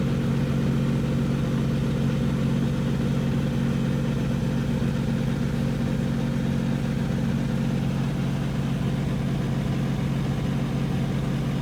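A car engine idles steadily with a constant low hum and even mechanical drone, with no start or revving heard, running alone without talk.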